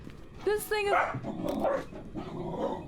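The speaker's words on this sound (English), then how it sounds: "pardon the dog." A dog barks twice in quick succession close by, followed by whiny, vocal yelps, with a person talking over and between the barks in a room.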